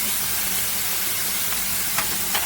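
Pineapple pieces caramelizing in a hot pan with peppers for sweet and sour pork give a steady, even sizzle and hiss throughout, with a couple of faint clinks near the end.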